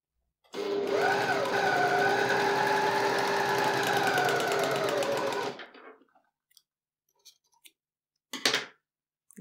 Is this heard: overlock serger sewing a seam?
yes